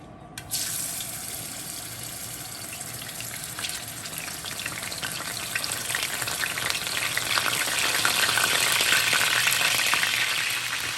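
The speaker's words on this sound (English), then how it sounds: "Okay, so I'm going to start adding my fish." Mackerel pieces dropped into a pan of simmering tomato sauce and coconut milk set off a loud, steady sizzle that begins abruptly and slowly grows fuller over about ten seconds, with no talking.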